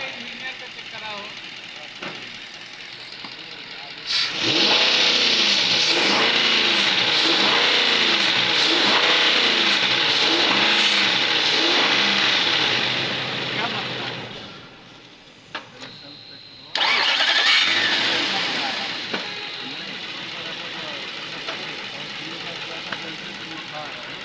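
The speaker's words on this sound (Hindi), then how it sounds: "इसकी सेल्फ की आवाज़ है," A car's self-starter motor cranks with a noisy starter and flywheel, and the engine catches and runs with a rough, knocking clatter. It cuts out and is cranked and started again, close and loud.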